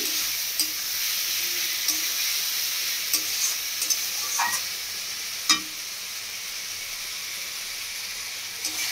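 Spices and ingredients sautéing in a pan for a rohu fish curry with green banana and potato, a steady close sizzle with occasional stirring scrapes and clicks, no voices.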